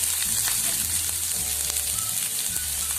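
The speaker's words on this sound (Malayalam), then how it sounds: "അതിലോട്ട് അരിഞ്ഞ് വെച്ചിരിക്കുന്ന സവാള ഇട്ട് കൊടുക്കാം" Chopped onion sizzles in hot oil in a pan, a steady close crackle and hiss with faint stirring scrapes throughout.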